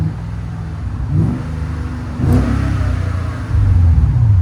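A 2018 Genesis G80 with a 5.0L V8, H-pipe and Borla ProXS exhaust revs close by outdoors. The engine gives several blips, with a deep burbling idle between them and a longer, louder rev at the end.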